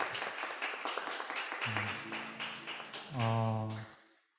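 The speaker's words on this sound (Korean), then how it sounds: "우리 서로 환영의 박수 보내드릴까요?" At a Sunday service at Darmstadt Central Church, a congregation gives a short round of welcome applause, a quick scatter of claps that fades after a second or so as sustained instrumental tones rise and swell, then cut off.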